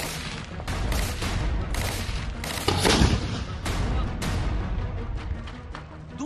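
Dense, rapid bursts of automatic gunfire from advancing Israeli soldiers in Gaza crackle continuously, with a few heavier booms mixed in, loud and close throughout.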